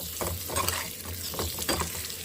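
Food frying in a pan in a home kitchen, with a steady close sizzle and stirring scrapes and clinks rising through it, and no voices.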